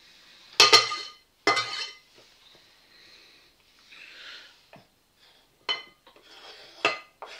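A knife chopping ingredients into small pieces for a lentil salad on a kitchen board, a few sharp separate knocks and clinks spaced through the quiet, close by, with soft scraping between them.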